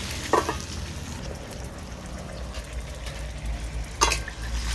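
A spoon stirs pumpkin and potato in a frying pan, the pieces sizzling and scraping with a few sharper knocks of utensil against metal, close up and with no talk.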